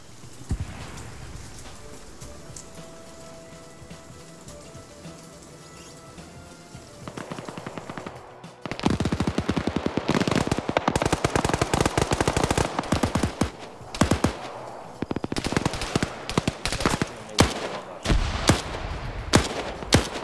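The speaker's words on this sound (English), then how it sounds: "I do appreciate hearing the MG3s and MG42s firing out." MG3 and MG42 machine guns fire in a PvP video game match, long rapid bursts of gunfire growing louder and denser after a quieter stretch, with overlapping shots.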